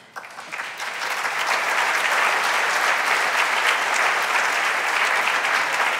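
A banquet audience at an annual dinner keynote breaks into applause that quickly swells to a loud, dense, sustained wash of clapping lasting several seconds.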